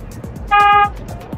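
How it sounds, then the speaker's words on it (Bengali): A car horn gives one short, loud honk of about half a second during a driving lesson on a highway, standing clearly above the steady rumble of the road and engine. "হ্যাঁ, হর্ন দেন, অসুবিধা নেই।"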